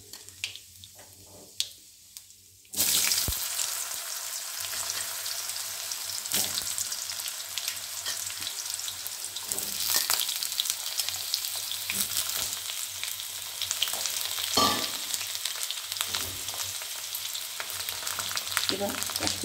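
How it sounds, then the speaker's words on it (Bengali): Potatoes drop into hot oil for Bengali alu chorchori. After about three seconds of near quiet a loud sizzle bursts up and keeps frying steadily, with occasional scrapes of stirring. "আলুটা আমি ভাজা করে নিচ্ছি"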